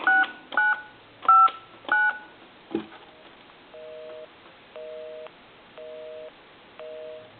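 Several quick touch-tone dialing beeps on a wood wall telephone, a click, then a repeating on-off busy signal, clear and close.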